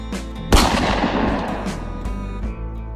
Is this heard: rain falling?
no